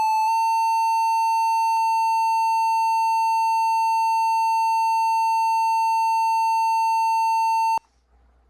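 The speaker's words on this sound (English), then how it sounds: "That was a long beep." An old PC gives one long, loud, steady beep during a Windows install on vintage hardware. The tone holds unbroken for about seven and a half seconds, then cuts off sharply into near silence.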